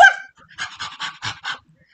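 People imitate dog noises in a workshop setting, a burst of voice followed by a rhythmic run of five panting, woofing sounds, close and clear with no other talk.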